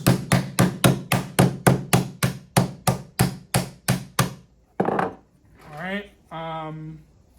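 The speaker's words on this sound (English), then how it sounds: "All right, so I'm gonna hammer." About fifteen light, evenly spaced hammer taps close up on a ukulele neck during assembly, followed by a thud and a short stretch of someone speaking.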